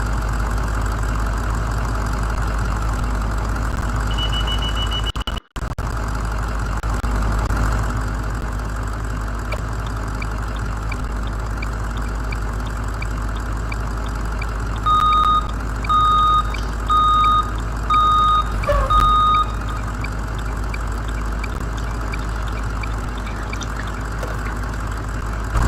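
A Blue-Bird International school bus in the Rigs of Rods game sits with its DT466E 7.6-liter diesel idling in a steady low drone, with a clear electronic reversing beeper pulsing several times over it.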